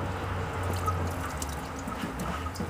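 Coolant drips, pours and splashes steadily while draining during a water pump replacement on a 1995 GMC Sierra, a continuous close wet trickle with scattered droplet hits and no talk.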